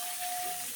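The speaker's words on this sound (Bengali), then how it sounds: "এখন আমি মাংসটা ভালোভাবে কষিয়ে নেব।" Chicken pieces for a spicy Bengali chicken curry sizzle and hiss steadily in a hot pan as the meat is browned, a continuous close frying sound with no talking.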